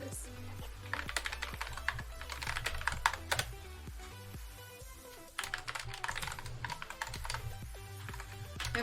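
A password is typed on a computer keyboard in rapid, uneven bursts of clicking keystrokes, close and fairly loud, with a brief pause midway before the typing resumes.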